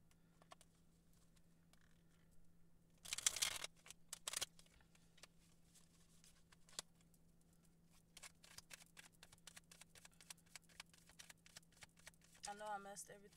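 Soft riffling and tapping of tarot cards being shuffled, quiet and close, in short bursts with a faint steady hum underneath; a voice speaks softly at times.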